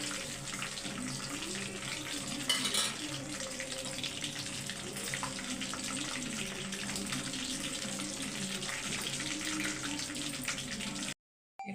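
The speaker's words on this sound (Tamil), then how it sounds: "சிக்கனை எண்ணெய்க்கு தகுந்த மாதிரி போட்டுக்கோங்க" Chicken pieces frying in hot oil for chicken Manchurian make a steady, continuous sizzle and bubbling hiss that carries on evenly for several seconds and then cuts off briefly at the end.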